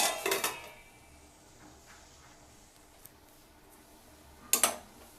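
Lid placed on a cooking pot of tomatoes and tamarind, a clear metallic clank at the start and another sharp clatter near the end, with quiet stillness between.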